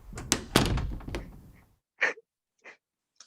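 A hotel room door opening onto a corridor: a loud rattling thump and creak, then a hush broken by two short, fainter knocks or clicks, close by.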